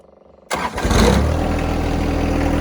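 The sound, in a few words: John Deere 1025r compact tractor engine starting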